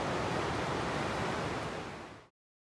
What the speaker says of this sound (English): Here we are at Ruby Beach on the Pacific Ocean, the western edge of Olympic National Park.